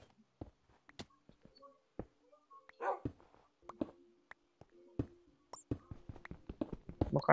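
A dog gives a string of short, sharp yips and barks mixed with whimpering, irregular and fairly faint, with scattered clicks and brief gaps of near silence between the calls.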